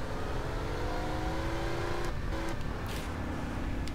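A car in GTA San Andreas, driven through rain, drones steadily with its engine pitch climbing, then briefly dips and shifts partway through as it keeps accelerating.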